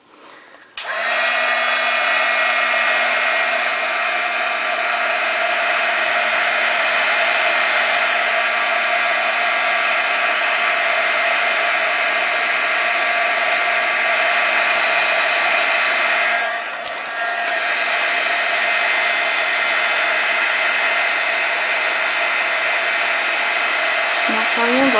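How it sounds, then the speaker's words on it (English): A heat gun blows steadily and loudly for nearly the whole stretch while embossing powder on a dryer sheet is melted, with one brief dip in the airflow partway through and no talk over it. "And you take your heat tool."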